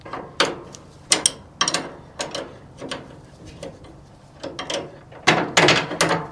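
Ratchet wrench loosening a bolt on a Troy-Bilt Pony riding mower, a close series of sharp clicking bursts in uneven strokes, a few pauses between them, louder toward the end.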